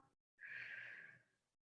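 A person breathes in through the nose as if smelling fresh, hot cookies, a single drawn-out close sniffing inhale that fades gradually, with brief quiet before and after and no talking.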